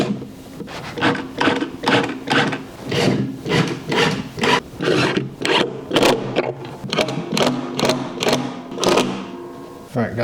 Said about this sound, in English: Now I'm just going to put 4 screws in these.